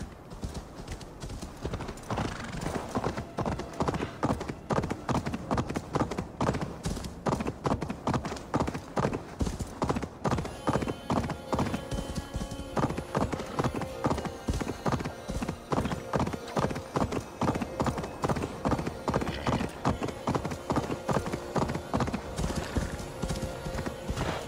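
Steady, rapid hoofbeats of a galloping horse in the video game Assassin's Creed Valhalla pound on continuously, loud and close, with an occasional whinny and no talking.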